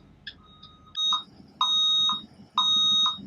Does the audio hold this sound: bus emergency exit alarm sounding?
yes